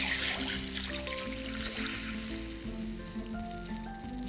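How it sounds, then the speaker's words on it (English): Hot tadka of curry leaves and hing hits rasam with a loud, steady hiss and crackle that sits over a low simmering hum throughout, with no voices. "And now the tadka goes in the rasam."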